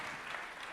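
A theater audience at an awards ceremony claps in a steady, dense burst of applause, heard alone.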